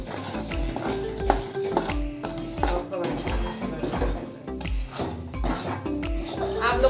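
Thickening jaggery mixture is stirred continuously in a pan for a Kath mithai sweet, giving soft repeated scrapes and clinks of the spoon against metal beneath steady background noise.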